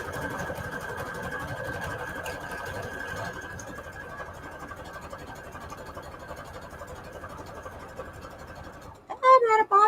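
A sewing machine stitches a scrap-paper booklet, running in one steady, continuous whir close by for most of the stretch, then stopping abruptly as a person begins talking at the end.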